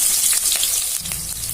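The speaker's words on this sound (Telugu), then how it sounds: "ఉల్లిపాయ వేసుకుంటున్నాను." Onion frying in hot oil with mustard seeds, cumin and dried red chilli as the tempering for a dried-fish tamarind curry: a loud, steady, close sizzle with bright crackling and a few stirring scrapes, no talking.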